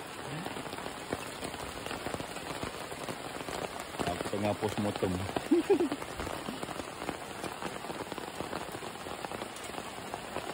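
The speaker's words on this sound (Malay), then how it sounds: "Okay, hujan lebat." Steady heavy rain hisses across the whole stretch at a campsite, with a faint voice and a few brief sharper sounds rising above the patter partway through.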